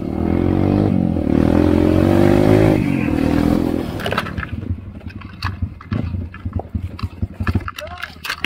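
A trail motorcycle in a forest revs loudly with a rising and falling engine whine for several seconds, then gives way to a series of scattered clattering knocks and thuds.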